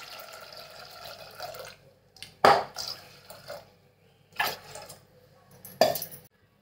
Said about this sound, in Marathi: पाणी टाकून घेते आता शिजण्यासाठी।